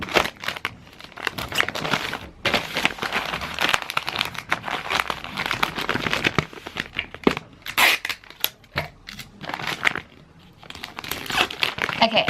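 Wrapping paper crinkles and crumples steadily as it is folded around a parcel and the ends are tucked up, close and fairly loud with sharp tearing-like rustles throughout.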